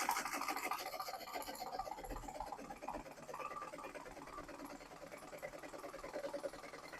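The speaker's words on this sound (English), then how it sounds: "Then we'll start sewing on this." A sewing machine stitching a tier of a gown, running in a steady continuous whir with a scratchy mechanical buzz throughout, fairly faint and with no voices.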